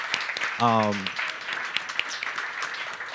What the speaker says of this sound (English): Let's give the Gathering Spot a round of applause.